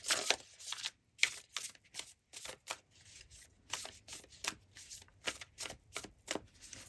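A deck of animal spirit oracle cards being shuffled by hand, close and quiet, in rapid riffling bursts separated by short pauses, with no talking.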